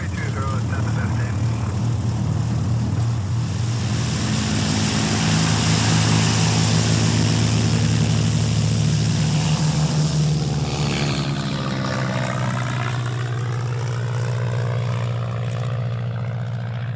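Crop duster propeller airplane taking off, its engine droning loudly and continuously, rising in pitch toward the end as it gathers speed, with people talking over it.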